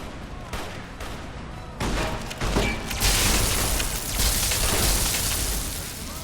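Gunfire and booming blasts in the video game Fallout: New Vegas grow from scattered shots into a dense, loud barrage.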